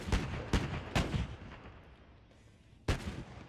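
A Bofors gun in the WW2 setting of Arma 3 fires several heavy booming shots, three in quick succession and another after a pause, each with a rumbling tail, close and loud.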